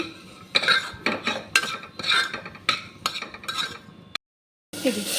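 Baby food with turmeric stirred in a pan at home, a run of sharp scraping and clinking strokes of a metal spoon against the pan, close and rhythmic, then a short silence and one more stir.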